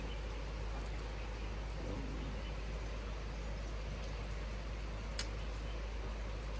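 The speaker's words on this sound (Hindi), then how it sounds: "जिस तरह से ये बारिश हो रही है लग रहा नहीं है आज रुकेगी।" Heavy rain pours steadily in cold weather, a dense constant hiss with a low rumble underneath and occasional louder drops, and no one speaks.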